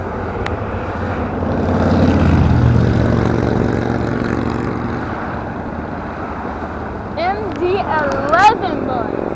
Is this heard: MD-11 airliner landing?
yes